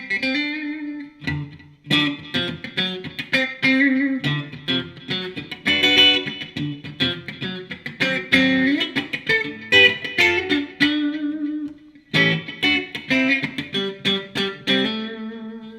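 A Godin 5th Avenue archtop guitar played through distortion, with choppy strummed chords and short riffs. Sharp attacks and brief pauses separate the phrases, and the guitar plays alone with no voices.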